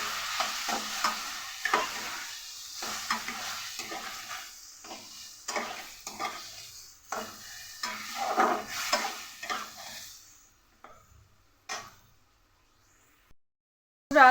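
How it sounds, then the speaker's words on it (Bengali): Spice paste with a little water sautés in a pan for a fish dish, a spoon scraping and stirring in rhythmic strokes over a soft sizzle, then going nearly quiet before a brief clatter at the end. "এবার একসাথে মশলাটাকে ভালো করে কষিয়ে নেব অল্প একটু জল দিয়ে আর মশলাটাকে ভালো করে কষাবো"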